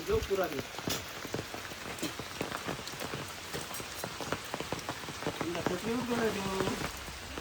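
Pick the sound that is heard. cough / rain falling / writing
rain falling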